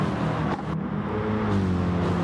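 Aero-style race cars in a sim racing video game, engines droning loudly and continuously with shifting pitch as cars run together on track, no voices over them.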